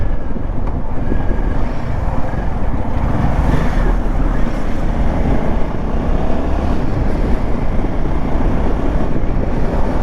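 Wind noise buffets a rider on a Royal Enfield Himalayan 450 fitted with a Carbon Racing touring windscreen, a loud, dense, continuous roar with a low engine rumble underneath and no talking.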